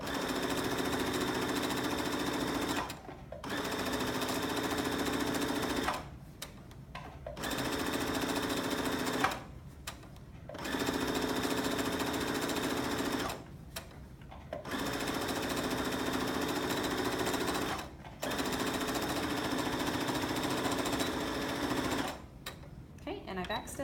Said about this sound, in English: I'm gonna pivot, and now I'm gonna sew straight down